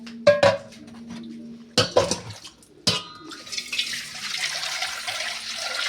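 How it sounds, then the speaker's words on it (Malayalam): Chicken pieces being washed in a kitchen vessel, with sharp clanks of pots and utensils early on, then a steady run of water splashing and swirling continuing to the end. "അപ്പോൾ നമ്മൾ അമ്മ ചിക്കൻ കഴുകിയെടുത്തിട്ടുണ്ട്"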